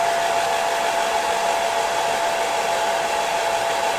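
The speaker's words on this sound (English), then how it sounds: "Hairdryer." A hair dryer drying paint on miniature models blows with a loud, steady whoosh and a constant whine, unbroken for the whole stretch.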